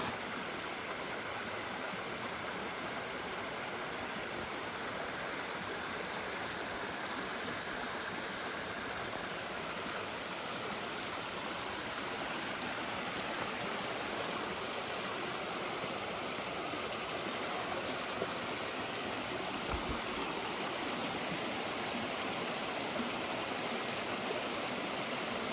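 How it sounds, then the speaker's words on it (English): Waterfalls on a wooded trail pour in a steady, dense roar of rushing water, constant and unbroken throughout with no voices. "There's so many waterfalls here."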